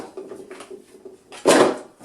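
A bathroom drawer slides and knocks shut in one loud, close burst, preceded by soft faint handling clatter.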